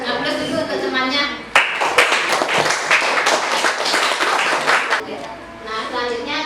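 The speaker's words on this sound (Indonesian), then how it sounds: "Sebelumnya berikan aplaus dulu untuk temannya" Students in a classroom clap for a classmate, a dense burst of applause that starts abruptly and runs for several seconds, with voices chattering before and after.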